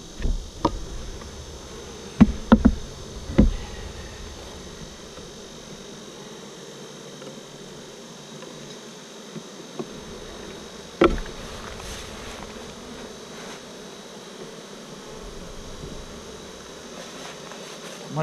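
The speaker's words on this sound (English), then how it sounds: "There's plenty of bees over here" Bees buzz around a hive frame during intense heat, a steady close drone throughout, broken by a few louder bumps and clicks near the start and middle.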